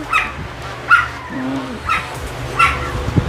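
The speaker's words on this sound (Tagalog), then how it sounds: "Ayun, kumakahol na, oh." An American Bully puppy barks four times in short, high yips spaced about a second apart, close up, with a brief low whine between them.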